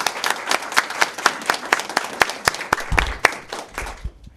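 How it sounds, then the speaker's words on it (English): An audience at a school board public meeting applauds together, a brisk run of close, sharp hand claps that tapers off toward the end. "a round of applause for their accomplishment."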